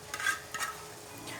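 A spoon scrapes and stirs a radish curry in a pan as fresh coriander is mixed in, making a few soft, close swishes over a faint background hiss.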